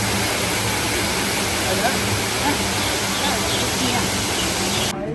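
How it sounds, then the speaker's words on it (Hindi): A waterfall in a rock garden in Chandigarh sends up spray and rushing water, a loud, constant hiss and roar that fills the whole scene without pause. "झरने की फुहार जो है उनसे ठंडक फील हो रही है"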